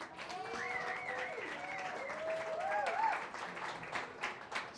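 An audience applauds at a community talk event, with sustained, moderately distant clapping and some whistle-like tones layered over it.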